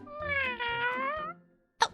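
A cat named Kohei gives one long, wavering meow that rises and falls, close and clear, followed by a short sharp sound after a brief pause.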